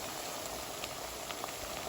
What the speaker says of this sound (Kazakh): Осылай бетін жауып, арасында қозғап тұру арқылы қуырып аламыз.